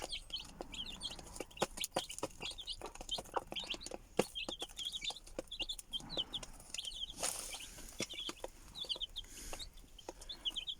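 Chickens feeding on broken rice and wheat cluck and chirp softly in near-continuous bursts, mixed with quick pecking taps and scratching close by.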